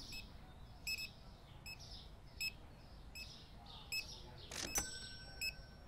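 Checkout scanner in the Supermarket Simulator video game, beeping repeatedly at a brisk, regular rhythm, each chirp short and bright over a faint background hum, with a louder clattering burst near the end.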